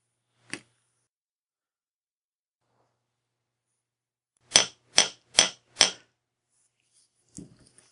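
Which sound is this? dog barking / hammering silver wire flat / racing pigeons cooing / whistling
hammering silver wire flat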